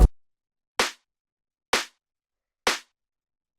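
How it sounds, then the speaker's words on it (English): A punchy, hard-hitting clap sample from a deep minimal house beat strikes alone at an even, slow pulse, five sharp dry hits with short tails and silence in between. "The next thing we have is the clap, which sounds like this."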